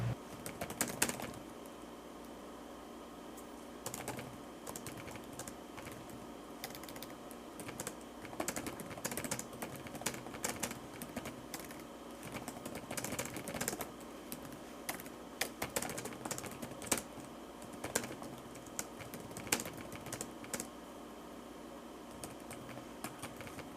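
Typing on a computer keyboard, a long run of quiet, close key clicks in irregular bursts with short pauses, with no voices.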